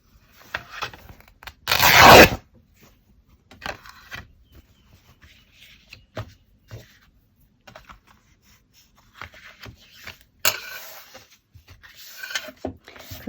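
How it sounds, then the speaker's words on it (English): Fabric or paper being torn by hand for a handmade fabric-covered junk journal, one loud close rip followed by quieter rustling and a second shorter tear later amid soft handling noises. "Okay, so I'm going to tear this one here."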